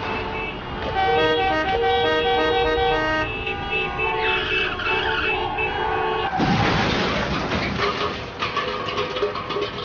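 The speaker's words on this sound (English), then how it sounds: "Horns make a pattern of sounds that we use to alert other drivers." Several car horns honk in overlapping bursts, loud and close, followed by a sharp screech and more traffic noise.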